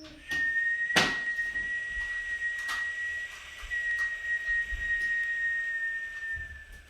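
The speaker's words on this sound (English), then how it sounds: "Whistle the breath out." Someone exhales a long, steady whistled tone that holds for nearly six seconds and slowly fades. A sharp knock or click sounds near the start, and soft room noise runs beneath.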